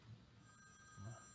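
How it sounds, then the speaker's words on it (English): A telephone rings twice in a live HVAC talk show studio, two short bursts about a second apart, moderately loud against a quiet room. "your phone's ringing, fellas."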